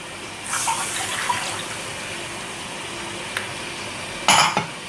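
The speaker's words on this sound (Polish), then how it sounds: "do tej jasnej zasmażki dolewamy mleko" Milk poured into a light roux in a pan for béchamel sauce, a steady liquid stream with a brief sizzle and a few soft clinks, close and without speech.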